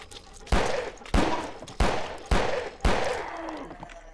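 Five loud gunshots from the video game Filthbreed fire at a steady, roughly half-second rhythm, each a sharp close crack followed by a short decaying tail.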